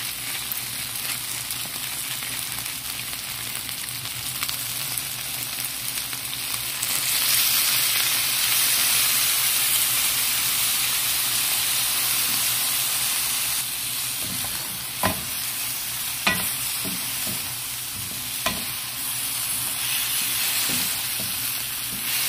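Chicken with black beans and onion frying in a pan and being stirred, a steady loud sizzle with a burst of steam partway through and several sharp utensil scrapes and knocks toward the end, no talking.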